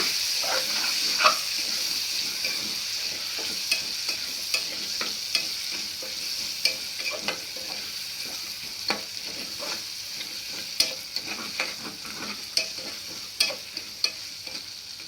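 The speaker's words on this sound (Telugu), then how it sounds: "పచ్చి బఠానీలు వేసుకోవాలి వేసిన తర్వాత కలబెట్టాలండి బాగా సిమ్లో పెట్టేసి కలబెట్టాలా" Green peas for veg biryani frying in a pan hiss steadily while a spatula scrapes and taps the pan in an irregular rhythm, close and fairly quiet, with no talking.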